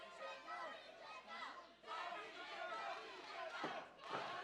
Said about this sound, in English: listen to the crowd there trying to get behind Douglas James